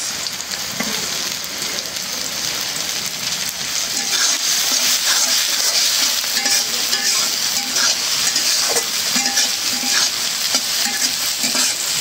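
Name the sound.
onion, chili and garlic frying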